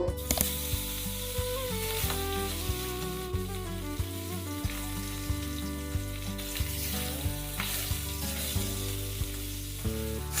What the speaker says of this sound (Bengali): তেলটা গরম হয়ে গিয়েছে, এবার আমি এক এক করে মাছগুলো ভেজে নেব।